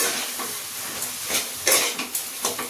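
Turmeric and salt stirred into spices frying in a pan for an oil-free chicken curry, a steady sizzling hiss with soft scraping strokes of the spoon, close and continuous without talk.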